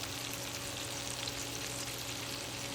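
Ground meat sizzles in melted butter with Fritos seasoning for burger cups, a steady, close, continuous frying hiss with no voices.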